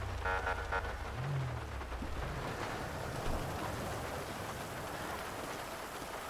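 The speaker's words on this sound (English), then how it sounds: "Raining out." Rain falling in the video game GTA V, a steady hiss of rain on surfaces that continues evenly throughout, with a brief low engine tone near the start.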